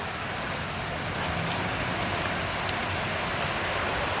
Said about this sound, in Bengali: বাহিরে বৃষ্টি হইতেছে